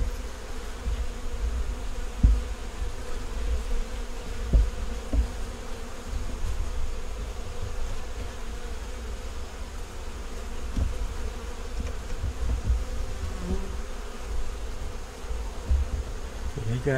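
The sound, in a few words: honey bees buzzing around an open beehive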